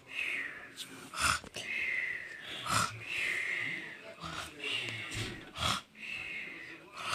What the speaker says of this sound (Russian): Не храпи!